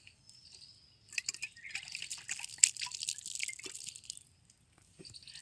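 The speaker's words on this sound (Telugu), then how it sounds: "వాటర్ని చల్లుకోవాలండి" Water sprinkled by hand over a freshly sown seed bed of soil patters in close, irregular bursts of fine drips and splashes. The bursts are loudest mid-way, then taper off into scattered single drops.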